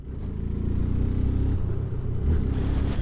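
A 2025 Hero Xtreme 160R 4V motorcycle engine in sport mode rising as the throttle is opened slightly, a close rumbling exhaust that swells and holds at a higher pitch.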